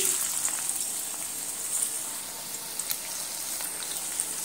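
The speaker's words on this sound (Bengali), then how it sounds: "তেল গরম হয়ে গেছে। দিয়ে দিচ্ছি পেঁয়াজ কুচি।" Chopped onion hitting hot oil in a wok, giving a steady, bright sizzle and crackle that holds evenly throughout without pause.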